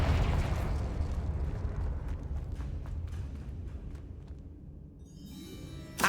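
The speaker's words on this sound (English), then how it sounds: "Incendio! Confringo!" Spell explosions from Incendio and Confringo in Hogwarts Legacy erupt as a deep, booming blast that rolls and slowly decays over several seconds, with scattered crackling pops and a new burst at the end.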